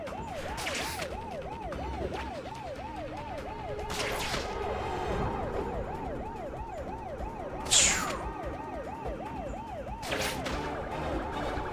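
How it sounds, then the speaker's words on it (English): An ambulance siren wails in the video game Spider-Man: Web of Shadows, rising and falling steadily without a break over a dense background din, with a few brief louder bursts layered on top. "Follow the ambulance to the hospital."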